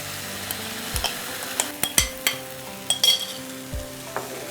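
A spoon scraping and stirring through a pan of spaghetti sauce as spinach puree goes in, with soft irregular knocks and scrapes against a faint sizzle, close up and without talk.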